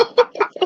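A chicken from the Fallout TV series clucks four times in quick, close succession, short sharp bursts with silence between them.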